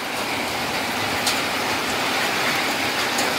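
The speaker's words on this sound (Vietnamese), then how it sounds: "Mưa này đang lớn" Heavy rain pours steadily outdoors, a dense, even hiss filling the whole stretch without pause or break, fairly loud and close, with no voices heard over it.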